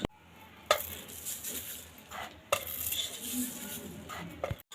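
Spiced corn chivda with chili powder, salt and sugar gets tossed in a bowl, producing close, dry rustling and scraping with a few sharp clinks of utensil on the dish, without talk.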